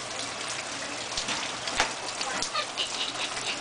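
Steady rain patters on a porch as a dense, continuous hiss with occasional louder drips, heard alone without talk.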